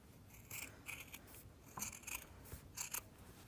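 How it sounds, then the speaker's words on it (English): Scissors snip thread on a fabric triangle pencil case, giving several quiet, crisp cuts spaced unevenly over a faint background hiss. "I'm gonna snip this off."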